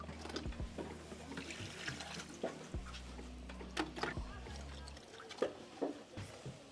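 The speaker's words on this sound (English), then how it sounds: "after washing with the hot water, you can also use cold water to rinse it up" Water runs and splashes over clams being rinsed by hand in a bowl during rural Ghanaian cooking, a soft continuous trickle with scattered clinks and a voice talking faintly beneath.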